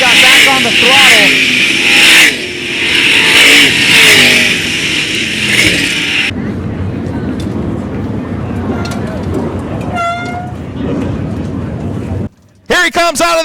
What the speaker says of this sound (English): Wonder if he ran out of fuel as the car slowed and he got back on the throttle.